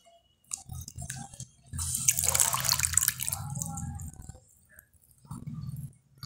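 Soaked sliced onions are lifted from their water and dropped into a mixing bowl for crispy onion pakoda, giving a burst of splashing and trickling water with dripping, followed by a shorter second splash. Brief speech sounds occur around the clip.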